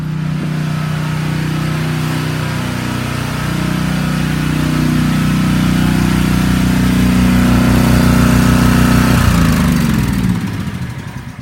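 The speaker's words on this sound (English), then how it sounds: "One of the two generators still running in the other garage here." A generator engine runs steadily in a garage, a loud, close, droning hum with a low throbbing tone that holds for several seconds, then shifts and begins to wind down near the end.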